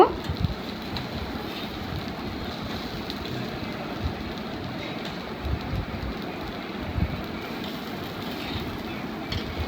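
Rice frying with mixed vegetables and lentils in a pot for khichuri: a dense, steady sizzle and crackle runs continuously at moderate level, with a few small clinks or stirring knocks, and no talking.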